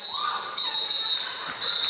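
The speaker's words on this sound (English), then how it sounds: "Heard a whistle there." Referee whistle at a roller derby bout, a sharp sustained blast that repeats in short bursts over the echoing hall's background noise and faint crowd.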